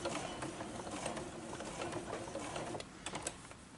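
A sewing machine runs steadily while stitching binding tape onto a glasses case, giving a close rapid mechanical whirring and clatter that slows and stops near the end, with no talking.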